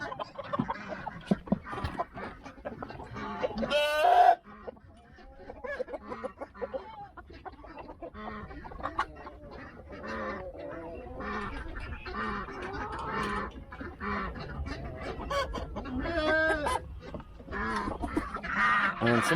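On a farm in the morning, ducks, geese and chickens released from their pen honk, quack and cluck in a busy, overlapping chorus nearby, with occasional louder calls and a person talking now and then.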